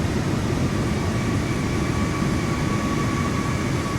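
Boeing 737 engines held at full throttle in Microsoft Flight Simulator 2024, a loud, unbroken broadband roar with a faint steady whine riding on top.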